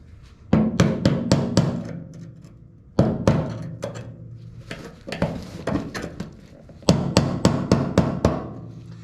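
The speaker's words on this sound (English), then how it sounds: "take a screwdriver, tap it a couple of times" A hammer taps a screwdriver against a tab on a fuel pump during fuel system work on a 1972 C-10 truck, heard as three close clusters of quick sharp metallic taps with short pauses between them.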